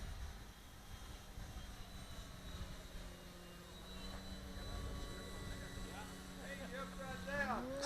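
An E-flite Carbon Z Cub RC airplane flies inverted overhead, its electric motor droning steadily as a continuous whine that rises and grows louder near the end.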